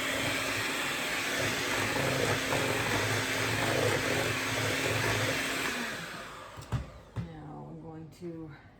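Electric mixer beating flour and milk into cake batter, a steady close whir running for several seconds, then switching off and followed by a few clinks and light handling sounds.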